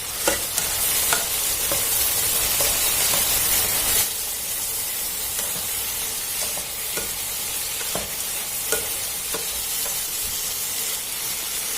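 Long beans and shrimp with chili being stir-fried over high heat, a steady loud sizzle and hiss with repeated scraping stirs of the spatula throughout, no talking.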